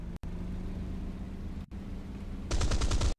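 Burst of machine-gun fire in War Thunder, a loud rapid stutter breaking in near the end after a steady droning engine hum, with brief cutouts in between.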